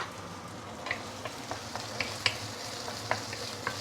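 Garlic, prawns and lap cheong sizzle in hot oil in a pan, a steady frying hiss broken by sharp crackles and pops, fairly faint and close, with no talking.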